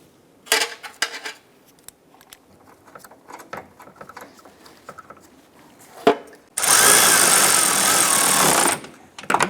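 A power tool snugs down headlight mounting bracket bolts on a 2011–2018 Ram 1500, one sustained whir of about two seconds after scattered light handling clicks and knocks.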